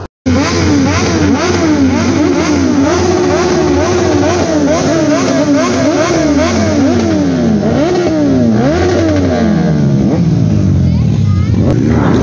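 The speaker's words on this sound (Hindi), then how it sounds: "यहाँ पे सारी बाइकें एक एक करके भाई बढ़िया बढ़िया स्टंट करके दिखा रही है भाई रेस हो रही है बाइक्स में" Motorcycles revving hard during stunts and racing at an outdoor event, engines rising and falling in repeated sharp throttle sweeps, loud and close, with overlapping bikes and crowd noise throughout.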